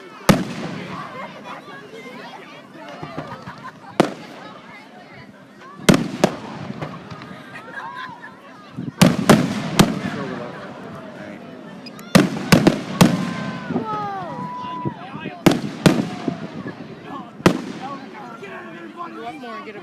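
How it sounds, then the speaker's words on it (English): Canada Day fireworks over McAdam burst in sharp, loud bangs scattered irregularly, some in quick clusters, with crackling tails between them while people talk nearby. "because when you're only getting half of the firework there"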